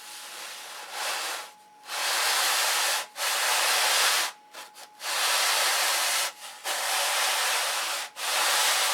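Sandpaper rasps over the wooden trailing edge of a control line Thunderbolt model stabilizer in several long, steady strokes with brief pauses between them, close and fairly loud.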